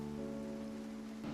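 Steady rain falls in the zombie survival game Project Zomboid, a dense, even wash that holds at a constant level throughout, with a low tonal hum running beneath it.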